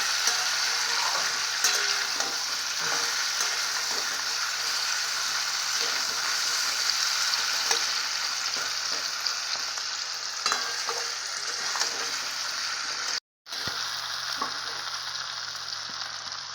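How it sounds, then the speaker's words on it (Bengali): Cumin seeds, a bay leaf and two dried red chilies fry in a little white cooking oil, a continuous close sizzle with scattered pops and stirring clicks, briefly cut silent near the end. "আর শুধু একটু জিরে ফোড়ন দিয়েছি, তেজপাতা দিয়েছি, আর দুটো শুকনো লঙ্কা দিয়েছি।"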